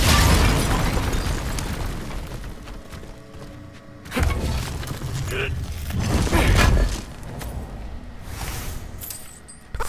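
In-game explosions from God of War Ragnarök burst out as a series of deep booms, with distinct loud blasts near the middle and end rising over a rumbling, mechanical background.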